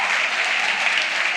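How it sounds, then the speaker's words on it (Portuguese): Audience applause at a church service, a dense, steady burst of many hands clapping together, loud and close for a brief stretch. "Se você quiser aplaudir, pode aplaudir."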